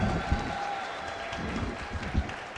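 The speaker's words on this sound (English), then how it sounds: "so give it up for Senator Abler." Audience applause for a senator at a disability services day event at the state Capitol, a steady patter of clapping from a crowd lasting a few seconds with no voices over it.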